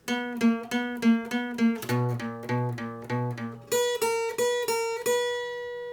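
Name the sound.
acoustic guitar playing octaves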